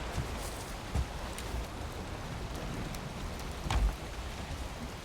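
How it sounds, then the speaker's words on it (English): Rain falling in the video game Valheim, a steady soft hiss of rainfall with a couple of low thuds, heard alone with no talk. "here comes the rain and the darkness. I think it's gonna rain."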